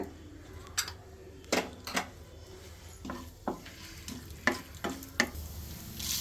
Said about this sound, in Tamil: எண்ணெய் காஞ்ச உடனே கடுகு போடுங்க, கடலைப்பருப்பு போடுங்க